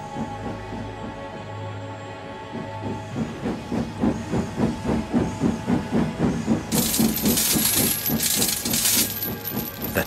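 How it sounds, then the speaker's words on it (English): A steam engine from Thomas the Tank Engine hisses, then chuffs in a quickening, rhythmic puffing that grows louder, with a bright high hiss of steam bursting in toward the end. "Thomas wheeshed and set off an old steam whistle."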